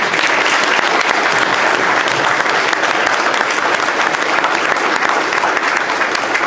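An audience applauds steadily at a Republican candidate forum, dense sustained clapping at an even loudness throughout, with no talk over it.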